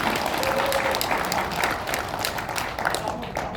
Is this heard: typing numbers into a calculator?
no